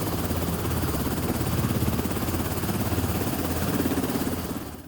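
A drone flying nearby, a steady loud whirring hum of spinning rotors that holds level throughout and fades slightly at the end, with no talk.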